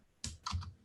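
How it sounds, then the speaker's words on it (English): A short burst of typing on a computer keyboard, two quick clusters of key clicks close to the microphone in a quiet room, with no speech. "Let me just type it for you."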